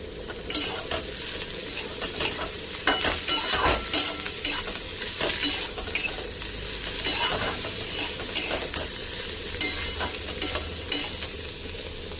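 Pointed gourd (kakrol) seeds fry in oil in a pan, sizzling steadily while a spatula stirs and scrapes in repeated clicks, close and continuous with no voices.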